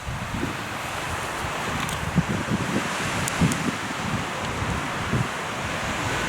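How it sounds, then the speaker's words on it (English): Wind blows steadily across a night campsite on Guadalupe Peak, a loud, continuous roar buffeting the microphone with occasional gusts and faint rustling. "we've battled this wind long enough"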